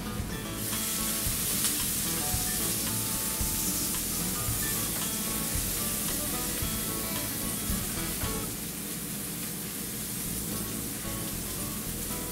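Onions sizzle as they fry in a pan, a loud, dense, continuous hiss with scattered crackles and light stirring scrapes, steady for the whole stretch with no voices.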